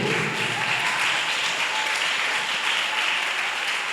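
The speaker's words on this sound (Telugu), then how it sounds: "కొట్టుగట్టిగా చప్పట్లు" Congregation at a Sunday church service clapping loudly, a steady, dense wash of many hands at even volume throughout, with no voices over it.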